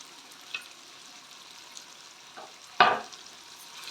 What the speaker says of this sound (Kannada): ಇವಾಗ ಇದಕ್ಕೆ ಸ್ವಲ್ಪ ಕರಿಬೇವನ್ನು ನಾನು ಸೇರ್ಕೊತಾ ಇದ್ದೀನಿ ಹಾಗೆಯೇ ಸ್ವಲ್ಪ ಕೊತ್ತಂಬರಿ ಸೊಪ್ಪನ್ನು ಸೇರಿಸ್ಕೊತಾ ಇದ್ದೀನಿ